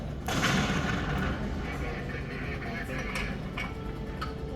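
A World War II Sherman tank gun fires once, a sudden loud blast followed by a long rolling rumble and scattered crackles, with voices faintly present around it.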